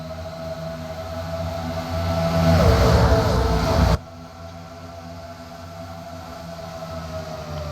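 NASCAR Truck Series trucks racing on the Michigan oval: a loud engine roar builds to a peak and then cuts off abruptly, leaving a steady, quieter hum of distant motors.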